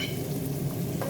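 Onion, garlic and curry leaves frying in hot oil, a close, steady crackling sizzle with soft stirring, loud and unbroken with no talk.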